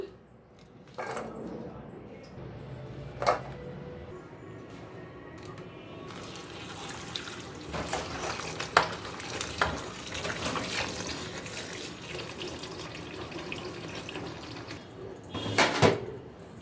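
Running tap water splashes over small baila fish being washed in a sink, with intermittent gushes and clinks of dishes, fairly close and moderately loud.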